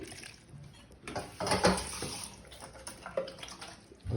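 Water poured into a cooking pot for a beef curry, a close splashing gush that swells and fades in short bursts over a few seconds.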